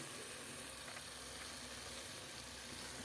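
Marinated chicken pieces for biryani drop into a hot pan and sizzle, a faint, steady, hissing frying sound that carries on evenly with no talking.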